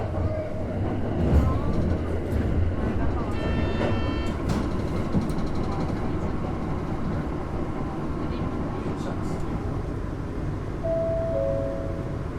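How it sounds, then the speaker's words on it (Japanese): A Tazawako Line train leaving Morioka Station runs with a continuous low rumble, a few brief tonal squeals and chimes, and a steady rolling drone under occasional voice announcements. "盛岡駅を出ると左に大きくカーブして高架を上ります。"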